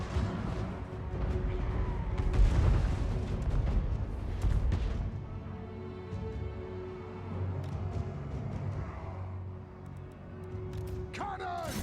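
Cannon fire in a Warhammer fantasy battle game, heavy booming blasts mixed into a dense, continuous battle din with rumbling low end throughout, ending in a sharp crack.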